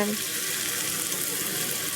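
Water is poured into a hot pan of aloo chana masala with mashed potato, giving a steady rushing hiss and light sizzle that continues evenly throughout, close and fairly loud.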